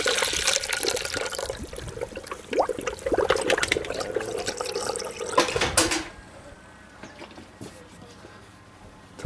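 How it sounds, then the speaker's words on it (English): Coolant pours into a Ford Mustang engine, a close, splashy gurgling stream for several seconds that then stops, leaving quieter trickles and faint background noise. "Top it off with a little bit more coolant."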